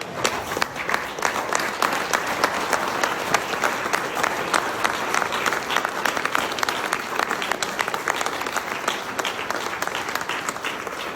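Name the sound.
audience applause at a memorial for Amber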